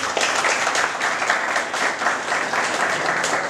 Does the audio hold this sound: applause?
yes